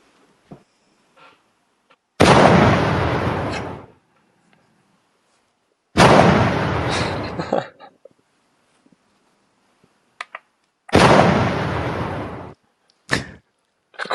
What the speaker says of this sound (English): Girl, not the gunshots.